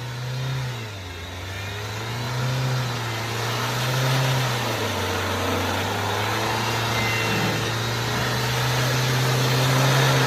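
An off-road vehicle's engine revs hard while it climbs a steep slope, producing a loud, sustained mid-pitched drone that rises and falls as the throttle changes. No one speaks.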